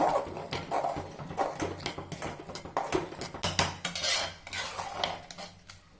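Rava being stirred into pongal in a cooking pot, giving steady, close scraping and clinking of a spoon against metal in an uneven rhythm, with no talking.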